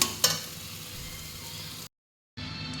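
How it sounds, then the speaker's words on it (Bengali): Loitta fish bhuna being stirred with a spatula in a pan, a steady close sizzling hiss with a single scrape of the spatula near the start, then a brief silence before the sizzle returns. "এইভাবে নাড়ার সময় খুন্তি দিয়ে ঘাটাং ঘাটাং করে নেড়েই কিন্তু এটাকে মেশাতে হবে"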